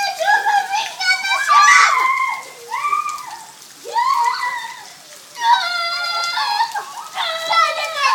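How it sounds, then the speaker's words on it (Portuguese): Children's high-pitched voices shout and squeal excitedly at close range, with a soft patter of rain underneath. "Olha só as crianças brincando na chuva."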